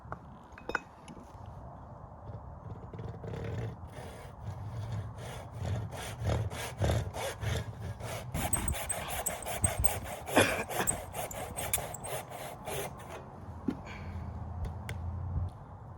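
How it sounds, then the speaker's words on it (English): A hand saw cuts a slot for the head into a wooden axe handle, with close rhythmic back-and-forth rasping strokes that grow stronger midway and carry on steadily. "Now, I'm going to cut out the slot for the head."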